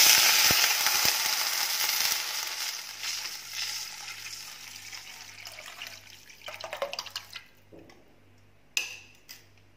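Rasam is poured into hot oil tempered with curry leaves and erupts into a loud hiss and sizzle. The sizzling gradually fades, followed by a few sharp clinks and soft bubbling.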